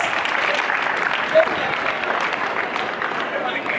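Students at a Bank of Ghana currency education event applauding themselves, a sustained, even wash of clapping from a large group with a faint murmur of crowd voices.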